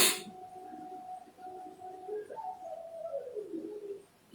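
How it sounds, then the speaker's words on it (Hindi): A pigeon or dove gives soft, low cooing notes, steady and moderately near, in an otherwise quiet outdoor setting, with a brief burst of higher noise at the very start. "पक्षियों की आवाज।"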